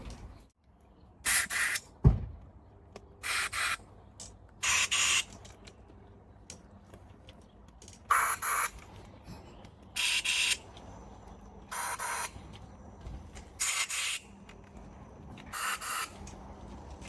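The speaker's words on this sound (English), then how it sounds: "we'll get the compressor fired up, we'll give those a quick blow through, clear all the orifices out, clear all the passages out" Short bursts of compressed air blown through the carburetors of a Honda CB400 Four motorcycle, about eight separate hissing blasts spaced a second or two apart against a quiet workshop background.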